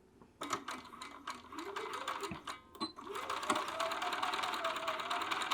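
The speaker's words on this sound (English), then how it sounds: "All right, so just feed your sleeve under your foot." A sewing machine stitches the hem of a petal sleeve on a garment. It starts with a few uneven bursts, then settles into a steady, fairly loud mechanical whir that runs to the end.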